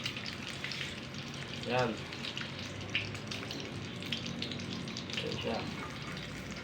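Food fries in oil in a kawali pan with a steady, soft sizzle and light crackling, while a voice briefly speaks over it.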